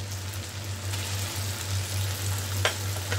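Chopped tomato frying with onions in a pan while cooking a Bengali fish-head muri ghonto, giving a steady close sizzle throughout with a low hum beneath and a brief sharp crackle near the end.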